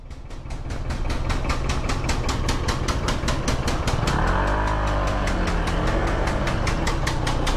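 A motorcycle engine idles close by in a steady, loud putter that grows slightly heavier partway through, with no voices.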